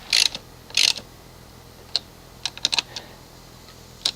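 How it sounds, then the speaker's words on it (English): Tightening the ignition switch terminal on a 1998 VW Jetta TDI: scattered sharp clicks and small metallic ticks from a tool working the terminal, close by, with quiet gaps between the bursts. "Let me tighten up the terminal."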